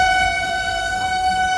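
A Vande Bharat train sounds a sustained, loud horn as it passes on the adjacent track, heard from inside another moving train, with steady rail rumble underneath and no talking.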